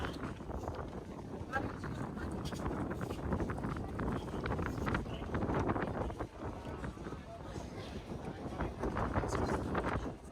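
Cold wind gusts around the Eiffel Tower in Paris, buffeting the microphone in a low, rumbling rush while people chat nearby.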